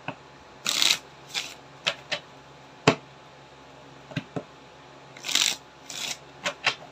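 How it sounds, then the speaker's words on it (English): A deck of tarot cards is shuffled close by in quick riffling bursts, with short taps and flicks between the louder shuffles and no voices. "Shuffle ko lang."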